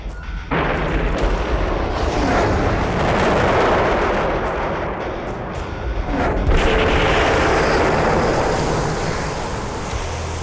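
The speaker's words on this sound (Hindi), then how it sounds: "Tranquilliser missiles fire." Tranquilizer missiles fire in the Ultraman Omega tokusatsu series, episode 11: a loud, sustained roaring blast with a fresh surge of booming rush about halfway through. No voices are heard over it.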